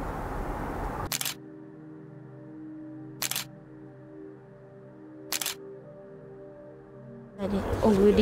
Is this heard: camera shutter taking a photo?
yes